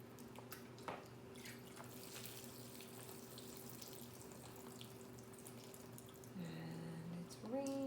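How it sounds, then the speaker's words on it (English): Water sprinkles like rain onto a science demonstration model, a soft steady patter and trickle at low volume, with faint background noise and a few short tonal squeaks near the end. "So here comes the rain."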